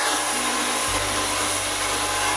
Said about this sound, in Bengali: জাস্ট এখন আমরা একটু ড্রায়ার করে দিব